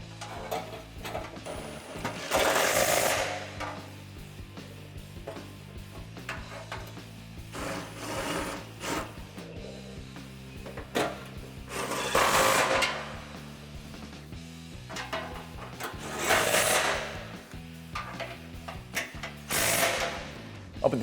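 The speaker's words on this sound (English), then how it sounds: "Then we can grab our 13mm socket on the extension to get our new hardware started." A ratchet with a 13mm socket on an extension tightens new suspension bolts during a 3-inch lift install on a 2007-2020 Toyota Tundra. Steady close ratcheting clicks run throughout, swelling into several louder surges of rapid turning.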